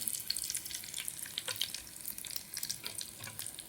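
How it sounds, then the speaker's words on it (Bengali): Spring potato chips fry in hot oil in a wok, giving a faint, steady crackling sizzle with scattered sharp pops and no voices. "আর আমরা চিপস দেব, তারপরে কড়াই দিয়ে দেব, ভাজা হয়ে যাবে।"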